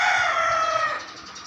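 A gamecock stag crows once, a loud close cock-a-doodle-doo that trails off within a second and a half.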